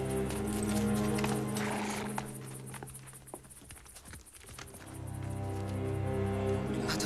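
A horse walking with a rider asleep in the saddle, hooves clip-clopping in an uneven rhythm at moderate distance, under a continuous musical score that swells, dips in the middle, and returns.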